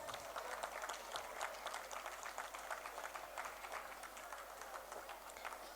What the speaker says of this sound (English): Please ma'am, give a big round of applause.